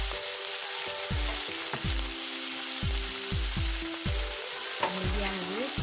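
Fish pieces frying in hot oil in a kadhai over a medium flame: a continuous crackling sizzle, broken by a regular series of sharp scraping knocks as a spatula stirs the pan, close and steady.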